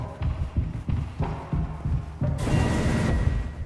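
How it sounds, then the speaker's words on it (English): Music from the video game Mouthwashing, a soft, uneven tune whose notes stumble and drag off tempo, with a burst of hissy noise entering near the end; no talking. "when that music begins to miss a few notes and lose its tempo"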